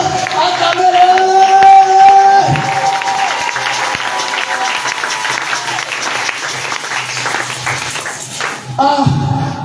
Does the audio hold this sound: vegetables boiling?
no